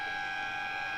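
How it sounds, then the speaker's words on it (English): A steady, sustained quarter-time siren at a football ground holds at one pitch, loud and unbroken, sounding alone. "the siren will beat any late chance for a goal"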